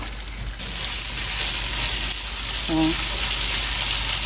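About two tablespoons of oil hiss and sizzle steadily in a pan for a Korean stir fry. The crackle stays close and continuous while a voice speaks briefly over it.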